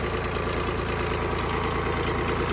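A Yanmar diesel motor pump, model MP800, idles close by with a steady, even chugging pulse and a hard knocking rhythm that holds without any change in pace for the whole stretch.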